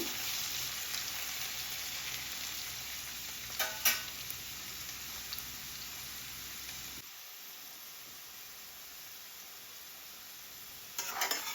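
Potatoes frying in a pan for aloo fry, a steady soft sizzle with occasional stirring scrapes, quieter after a pause midway.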